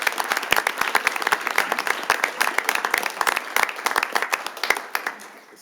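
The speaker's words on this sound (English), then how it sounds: "Let's give these years of service recipients a warm round of applause." Audience at a city council meeting breaking into a round of applause, lively clapping from a room of people that tapers off near the end.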